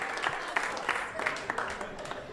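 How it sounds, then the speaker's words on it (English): Comedy club audience at Gotham Comedy Club applauding during a stand-up set, a thinner scatter of hand claps with distinct individual claps popping out, moderate level, with murmured voices beneath. "A round of applause."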